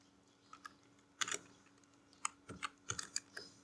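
Keys on a computer keyboard tapped while entering text into an Excel salary sheet, a few quiet, close clicks at first, then short irregular bursts of keystrokes.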